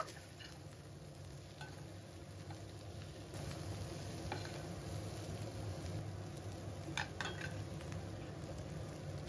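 Curry frying in a pan as chilli powder and coriander powder are stirred in, a steady soft sizzle with occasional scraping clinks of the spoon against the pan, fairly quiet and without talk.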